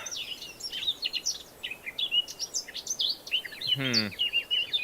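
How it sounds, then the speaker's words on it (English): Ambient birdsong from the Minecraft game environment: many quick, bright chirps and tweets overlapping in a busy, continuous chorus, with one rapid buzzy trill standing out near the end. "The birds are really loud. Where's the birds coming from?"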